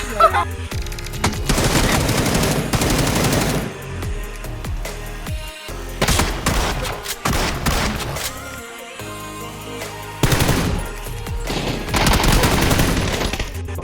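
Dense bursts of rapid automatic gunfire and single shots crackle loudly in a battle royale video game firefight, with brief pauses between volleys and faint voices underneath.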